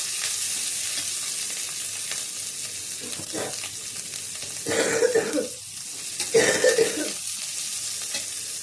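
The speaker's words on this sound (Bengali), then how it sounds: "ক্যাপসিকাম কেটে রেখেছিলাম আর কাঁচা লঙ্কা কেটে রেখেছিলাম, এগুলো ছেড়ে দেবো। একটু নাড়াচাড়া করে" Capsicum and green chillies fry in a pan under a steady, hissing sizzle, with a few louder bursts of spatula stirring and scraping near the middle and toward the end.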